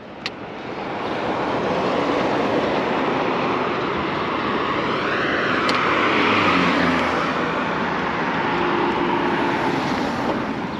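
Buzz Centris e-bike on a test ride, a steady broadband rush of wind and road noise that holds loud and even for about ten seconds, with a faint rising motor whine midway and no talking.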